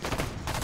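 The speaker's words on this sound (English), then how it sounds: "Here, Megan, gunfire." Rapid automatic gunfire in the video game Halo 5, a dense burst of loud repeated shots filling the moment.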